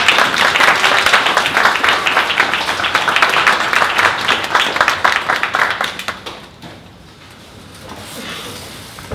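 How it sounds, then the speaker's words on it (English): An audience at a 1 Million Cups Dallas startup gathering applauds a presenter with loud, dense clapping that lasts about six seconds, then thins to scattered claps and fades into quiet room noise. "If you could give our first presenter a big round of applause"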